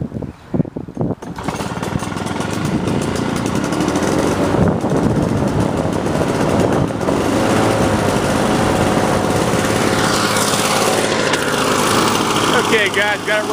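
Lawnboy Duraforce lawn mower engine starting with a few quick pulls, then catching and running at a steady high-pitched roar, loud and close, with a voice talking over it.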